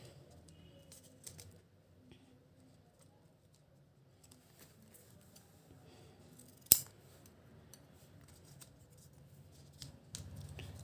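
Scissors cut paper for a handmade Teacher's Day gift craft, giving faint, sparse snips in a quiet room, with one sharp, louder click near the middle and a few soft rustles toward the end.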